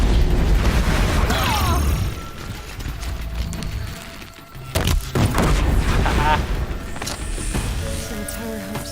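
Bombs exploding in Horizon Zero Dawn: The Frozen Wilds, several heavy booms and bursts among mechanical machine noise, with a sharp blast near the middle and a voice speaking over the game sound.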